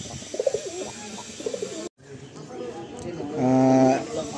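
Pigeons coo in a loft of Madrasi pigeons, soft throaty calls repeating near and fairly clear, with a brief cut midway and a longer rolling coo near the end.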